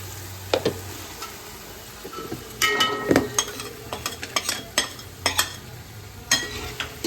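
Onions frying in hot oil for biryani: a soft background sizzle with a run of sharp spatula scrapes and clinks against the pan, close and intermittent.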